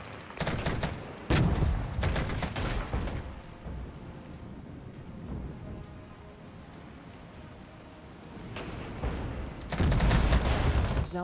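Artillery fire in the night-time strategy game Regiments: heavy booming salvos at the start and again near the end, with a rumbling, rain-like battlefield wash in between.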